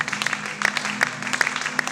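Scattered clapping with sharp individual claps and a low crowd murmur underneath, moderately loud and irregular, like an audience applauding.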